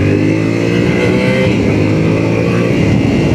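Yamaha Tenere 700 motorcycle engine on an off-road ride, a loud steady drone that stays close and constant, layered with wind rush and no speech.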